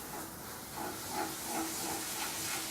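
Ginger paste, onion, green chillies, tomato and curry leaves sautéing in a pan give off a soft, steady steamy hiss, faint and continuous, with gentle pulses from stirring and no voices.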